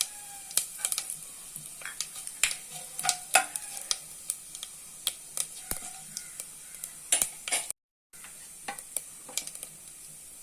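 Fennel, cinnamon and cloves fry in ghee and oil for quail biryani, a soft sizzle under frequent sharp spoon clinks and scraping against the pot, with a brief silent gap near the end.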